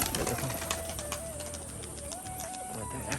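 Pigeons at a loft, released into the air, with soft bird calls and cooing over a steady outdoor wash of noise lasting throughout.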